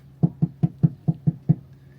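Seven sharp metallic knocks from something metal tapped on gear, in an even rhythm, close and clear, with a faint ringing tone between taps and no talking.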